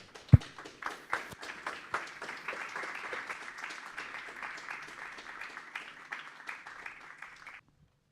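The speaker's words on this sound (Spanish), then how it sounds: "Lo recibimos con un fuerte aplauso." Audience applause welcoming a speaker, a moderate crowd clapping steadily after a few scattered opening claps, then stopping abruptly into silence.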